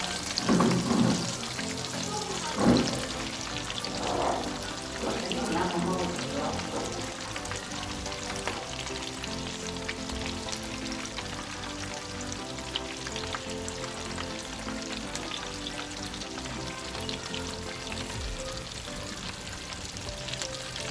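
Chicken pieces frying in hot oil for crispy chicken broast, a steady close crackling sizzle with a brief splash early on as the pieces go in, continuing evenly throughout.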